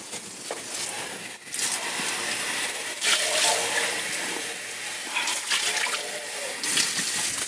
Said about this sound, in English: I'm going to take that acid alcohol, and I'm actually going to pour it in here to start cleaning this hemotoxin container.